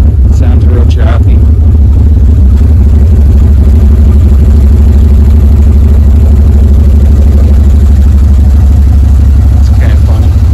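A cammed Dodge LA SB360 small-block V8 with Magnaflow exhaust idles with a loud, lumpy low rumble that continues steadily throughout.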